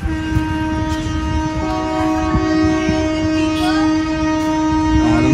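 A train in Jaipur, India rumbles past up close, its horn sounding a long, steady chord over clattering rail noise, with no talking.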